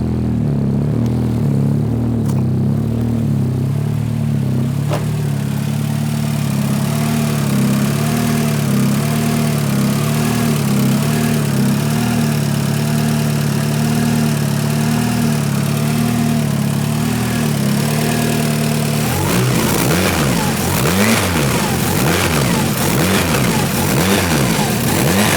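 A 500hp Honda Civic engine, freshly fitted with a new timing belt, idles loudly and steadily up close, then catches a burst of revving and uneven running near the end.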